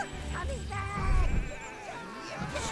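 Sheep in the Overlord video game bleat repeatedly in overlapping wavering calls over busy game sound, with a voice talking alongside.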